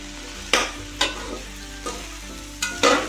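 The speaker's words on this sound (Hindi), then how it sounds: "इसको अच्छी तरीके से फ्राई करके आगे बताती हूँ।" Okra (bhindi) for a masala cheese bhindi fry sizzles steadily in a pan, broken by several sharp scraping stir strokes; no talking.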